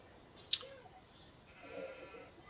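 A sheep in a farming video game gives one short, faint bleat, then a longer soft bleat follows after a pause, both set against quiet background hiss.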